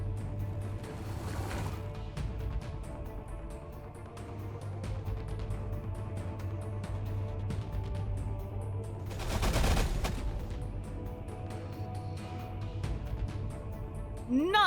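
Castigator fire support barrage in the Warhammer 40,000: Battlesector strategy game: sustained rumbling gunfire throughout, swelling into a dense, loud burst of blasts around the middle before settling back into a steady battle din.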